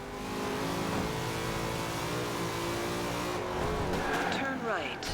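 Engine of a race car in Forza Horizon 2, droning steadily and loudly with shifting pitch, then tyre squeal and skidding near the end, with someone talking over it.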